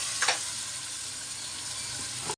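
Ginger and garlic sizzle in a home kitchen pan as water is added: a steady, close hiss with a brief louder burst near the start, and no talking.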